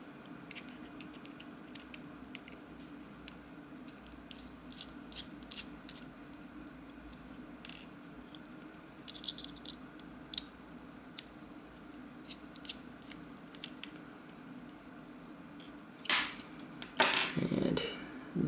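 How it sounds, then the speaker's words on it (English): A Torx driver takes the pocket clip off a Kershaw folding knife. Faint metallic clicks and small taps of the screw and tool are scattered through a quiet stretch, and a few louder rattles and scrapes come near the end. "First thing I do is take off the clip."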